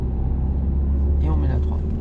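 A car pulling away in second gear during a driving lesson at a traffic-light junction, engine rumble building steadily under a voice speaking close by.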